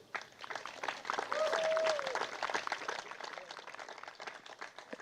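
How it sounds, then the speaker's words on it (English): Crowd applause at a charity mixed doubles tennis event honoring the two finalist teams, steady clapping throughout with a voice talking over it. "nice round of applause here to the two teams who made our finals"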